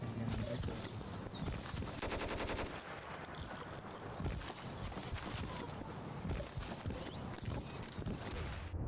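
Gunfire in the SOCOM Revolution mod for Insurgency: a busy, continuous firefight with a rapid automatic burst in the middle, scattered shots, and thuds throughout at moderate distance.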